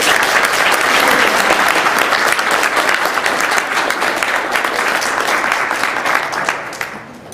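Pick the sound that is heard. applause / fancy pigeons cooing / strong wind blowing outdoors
applause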